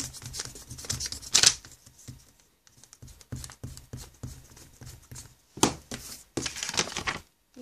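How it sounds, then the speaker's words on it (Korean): An eraser being tested by rubbing on paper, giving dry, scratchy scrubbing bursts in short, irregular strokes with brief pauses between them, close and fairly quiet. "일단 한번 지우개 테스트 한번 해볼게요"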